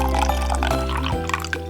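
Oil, water and orange juice being stirred together in a medium bowl for cranberry orange nut bread give a close, continuous liquid swirl and slosh with soft splashy accents, heard alone without talk.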